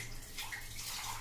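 Water splashes and pours as a bowl is rinsed by hand, a short, continuous watery wash close by, with no voices.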